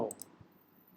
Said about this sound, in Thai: คลิกขวาครับทำสำเนา